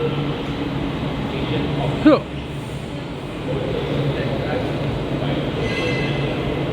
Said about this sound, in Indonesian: Nih MRT menuju ke Putrajaya.